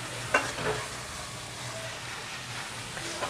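Palak paneer cooking in butter gives a steady, soft sizzle that stays fairly quiet, with a brief stir or clatter near the start.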